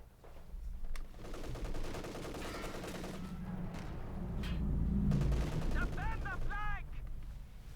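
Battle in Company of Heroes 2, a match between German OKW and British forces, with continuous distant gunfire and rumbling explosions layered under a commentator's steady voice, plus a few rising whistling effects near the end.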